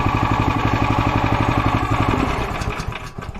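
Engine of a Hartnett hydraulic log splitter held at high revs, a loud, steady mid-pitched mechanical drone with a fast regular pulse, then easing and dropping slightly toward the end.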